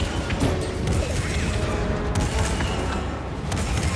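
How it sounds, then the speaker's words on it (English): Heavy, continuous video game combat din with a cannon firing, booming low-end blasts and rattling mechanical clatter, steady and loud throughout with no pauses. "So that fires the cannon."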